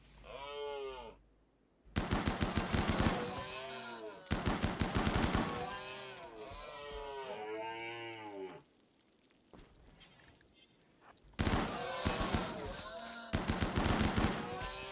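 Rapid bursts of automatic gunfire from colonists in RimWorld, loud dense volleys in several separate stretches, broken by quieter passages with tonal, warbling sounds.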